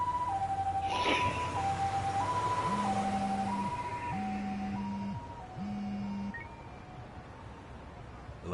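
Ambulance siren in the Lost Judgment game, a two-tone wail stepping up and down in a regular pattern, heard from a moderate distance over a low traffic rumble, with a second lower horn-like tone pulsing alongside for a few seconds.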